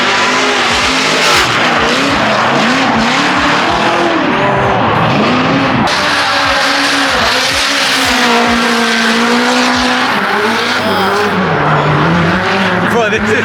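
Formula Drift cars sweep past on a Long Beach street circuit, loud wailing engines rising and falling with sustained tire squeal throughout, very close and overwhelming, with people talking under the roar.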